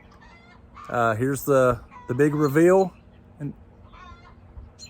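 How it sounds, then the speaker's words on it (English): Backyard chickens cluck loudly and excitedly in several close bursts, a hen's rising squawks dominating, with a short spoken phrase in between and a steady low hum underneath. "I don't know if you can hear those chickens in the background"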